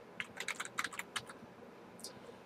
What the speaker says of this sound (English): Type the first concept into the search box.